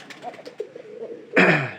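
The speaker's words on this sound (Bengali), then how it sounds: "এটা কিন্তু পায়রি কবুতর, প্রায়গুলো সাদা কবুতর।" Domestic white pigeons in a loft give soft low coos and a few rustles, followed by a louder close burst of fluttering or calling near the end.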